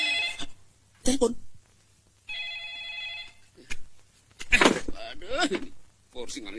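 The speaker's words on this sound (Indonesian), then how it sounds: "Itu juga telepon berderang-derung" A telephone bell rings in short repeated bursts in a comedic film scene, clear and close, set between stretches of people talking.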